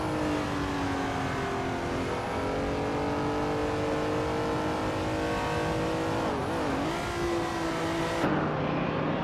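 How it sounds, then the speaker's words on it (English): A 1970 Chevrolet Camaro Z28 race car drives hard in a competitive racing game, its engine droning loud and steady with rising and falling revs through gear changes and a brief tire squeal, no voices present. "Army is driving a 1970 Chevrolet Camaro Z28"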